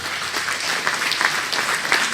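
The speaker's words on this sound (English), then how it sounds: "round of applause for both of them" Applause from the audience at a midget racing Legends Day celebration, welcoming two MCs: a continuous, even patter of many hands clapping, moderately loud and close, with no talking over it.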